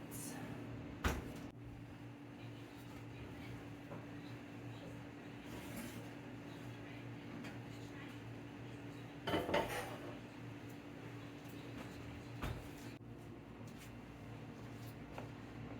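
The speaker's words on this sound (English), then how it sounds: "now we're gonna put them in the oven and we're gonna bake for 45 minutes" Pans of cherry pudding cake being set into a home kitchen oven: a few soft clanks and knocks of metal pans and racks, with a door thump near the start and another clatter around the middle, over a low steady hum.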